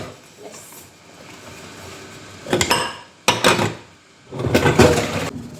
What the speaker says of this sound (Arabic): انا هغسل المواعين معاكم